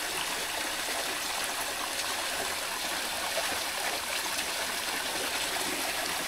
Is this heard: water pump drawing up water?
yes